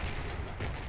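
Gunfire in the video game FEAR Extraction Point, a brief dense burst of rapid shots that fills the whole second with loud, crackling reports and no talk.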